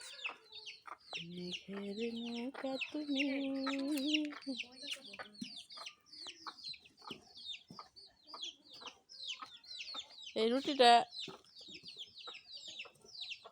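A hen clucks among four small black chicks, a run of close, rapid clucks and chirps with a louder burst of hen calls near the end, while people talk intermittently nearby.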